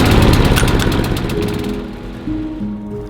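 A lawn mower engine runs in a garden, a loud close drone that gradually eases and settles into a lower steady hum.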